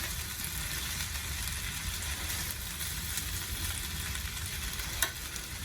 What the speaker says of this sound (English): I just want to stir it up and get everything nice and covered in that butter.